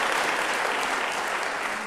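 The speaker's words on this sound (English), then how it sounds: "let's give them a round of applause for having done all this work" Dense, steady audience applause fills a large convention hall at South Africa's national dialogue gathering, loud and close throughout with no gaps or voices.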